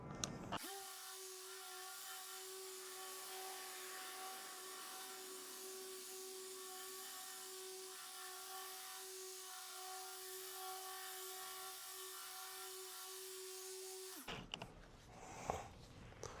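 A car polishing machine runs at a medium speed setting with finishing compound on the pad, giving a steady, continuous whine with a strong tonal hum that holds unbroken for about fourteen seconds before cutting off.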